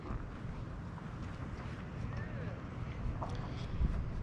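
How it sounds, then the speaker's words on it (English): Steady wind blowing outdoors beside a lake, a constant low rumble and buffeting against the microphone that runs throughout, with faint background sounds and no clear talking. "I wish it wasn't so windy,"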